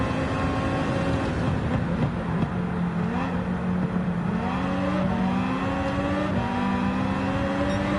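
A Citroen race car engine in a racing video game, a steady revving drone with rising pitch sweeps as it accelerates through gears, continuous and close with no talk.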